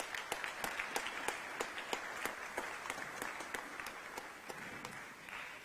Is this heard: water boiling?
no